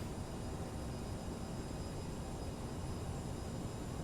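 Steady broadband jet engine roar from a CRJ-700 airliner in Microsoft Flight Simulator as throttle is added on approach, a constant dense rumble with faint high whine, no voices.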